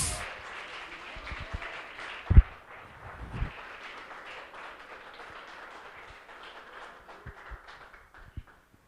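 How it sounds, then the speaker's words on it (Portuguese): Faint, scattered applause from a church congregation for Jesus, a soft continuous patter of many hands with a few louder thumps, quiet and distant throughout. "Sua salva de palmas para o Senhor Jesus"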